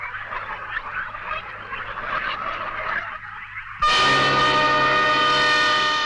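Chickens squawk and flap in a scuffling flurry as they are grabbed and carried off in a Hindi film scene. A loud, sustained horn-like blare then cuts in and drowns out the birds.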